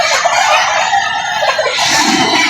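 A rooster crows loudly and close at a poultry market in Lipa City, Batangas, with other fowl clucking around it throughout the short stretch.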